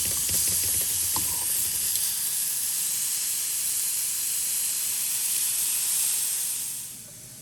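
A flipped pork chop sizzles loudly and steadily in a hot pan, a continuous close hiss with a faint clink near the start, easing off at the very end.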